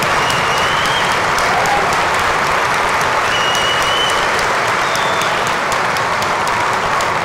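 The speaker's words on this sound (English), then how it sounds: "Everybody, let's give them a round of applause." A large audience at an IBM EMEA show in Dubai applauds steadily, a loud, dense wash of many hands clapping that holds its level without a break from start to finish.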